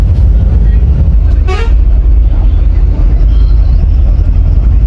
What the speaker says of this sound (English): listen to the horn of this bus